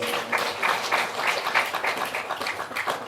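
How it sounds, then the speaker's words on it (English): A crowd applauding steadily, a dense patter of many hands clapping at once without pause. "Give all of yourselves a round of applause."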